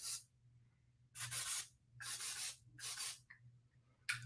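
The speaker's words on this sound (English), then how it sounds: "Use a dry texture spray to set the curls" Dry texture spray is misted onto freshly curled hair in four short, loud hissing bursts with pauses between them, over a steady low hum in the background.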